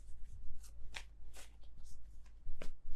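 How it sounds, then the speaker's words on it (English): Tarot cards are shuffled by hand in a quiet room, producing soft, riffling flutters in several short, uneven bursts, near and fairly faint. "I feel like these are all sloppy shuffles."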